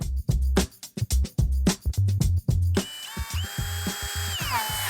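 Power drill driving screws into composite deck fascia boards on the face of a Trex deck, heard as several short, loud, close bursts of whirring, then a longer run that winds down.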